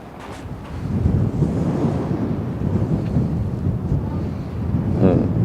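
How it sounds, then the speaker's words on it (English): Strong wind roars and buffets the microphone in a steady, heavy rumble with gusts, with no talking. "the wind is really bad."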